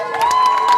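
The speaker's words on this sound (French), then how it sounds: "On peut l'applaudir." An audience at a high school talent show applauds and cheers, loud and close, with a sustained whistle-like tone running through the crowd noise.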